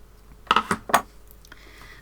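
Scissors snipping a woven-in yarn end on a quilt, three or four quick crisp metallic snips close up, then quiet.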